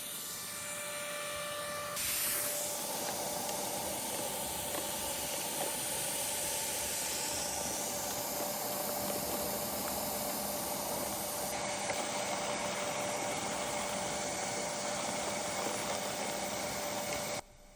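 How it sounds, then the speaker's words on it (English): Vacuum collection device steadily sucking up German yellowjackets from a large ground nest, a constant loud hiss and whooshing airflow with a faint tonal whine that runs throughout before cutting off abruptly at the end. "Pretty steady flow getting sucked into the collection device"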